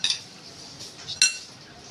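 Green chilli and garlic pickle is spooned into a bottle, giving a few brief, close metallic clinks of a spoon against glass and pan over quiet background.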